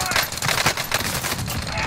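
Rapid bursts of gunfire in a shooter video game, with a Milano weapon in use, crackling continuously and loudly across the moment under game noise and voice chat.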